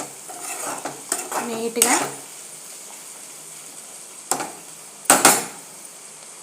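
Dondakaya (ivy gourd) curry stirred in a pan, with a few scraping, clinking utensil strokes in bursts, then a pause and another brief scrape, over faint background noise and a brief word.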